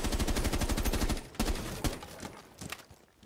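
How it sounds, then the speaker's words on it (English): Rapid automatic gunfire in Rainbow Six Siege aimed at an Astro Cam, a dense close burst of shots for about a second, then a few scattered single shots and faint echoes trailing off. "I'm going to go shoot the Astro Cam"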